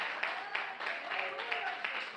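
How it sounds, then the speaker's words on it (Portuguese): Church congregation clapping in praise during a Portuguese-language sermon, a brief burst of rapid, fairly even applause filling the room. "Palmas de vitória, meus irmãos"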